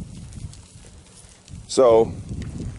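A goat steps around in its feed pan beside a scrap-wood feeder trough, giving soft, low hoof knocks and rustles throughout. A person talks briefly over the shuffling.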